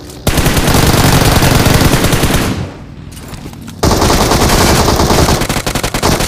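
Rapid automatic gunfire in a mobile shooter game on an iPhone, loud continuous bursts that stop for about a second and then resume, ending in quicker separate shots.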